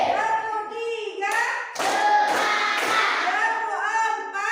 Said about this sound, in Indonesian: Sekarang kita tepuk semangat ya, biar belajarnya tambah semangat